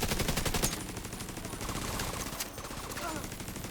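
Dense video game gunfire rattles without a break, rapid overlapping shots forming a steady, loud fusillade with a voice briefly mixed in.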